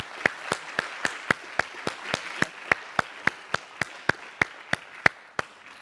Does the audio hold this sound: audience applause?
yes